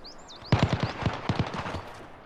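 Rapid bursts of video game gunfire during a gunfight match, a quick string of sharp shots after a brief quiet start, close and punchy.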